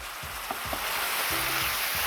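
Ground beef browning in a skillet while a meat masher breaks it up, a steady loud sizzle with several soft thuds and scraping pushes through the meat.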